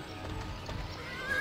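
A horse in Barbie Horse Adventures: Riding Camp clip-clops along at a walk, its hoofbeats soft and even, and a neigh rises near the end, all fairly quiet with no one talking.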